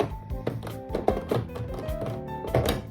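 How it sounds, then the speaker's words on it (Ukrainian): Someone rummages through a drawer for eyeshadow, making a busy run of thunks, taps and clatters as small makeup items are knocked and shifted, close and fairly loud, with no voice. "Зараз я знайду в шухляді"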